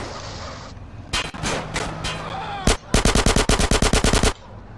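Bursts of rapid automatic gunfire from the video game GTA San Andreas, a few scattered shots followed by a long, loud rhythmic volley, with no talking.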